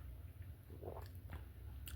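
Soft close-up chewing of a Del Monte salted caramel pear in syrup, a few wet bites and squishy mastication sounds against a quiet room hum.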